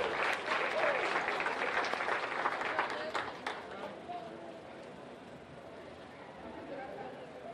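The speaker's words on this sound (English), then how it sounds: "put your hands together and give the young people a big round of applause." Crowd applause at a 4-H beef cattle show, a moderate burst of clapping that thins out after a few seconds, leaving faint arena ambience with a little background chatter.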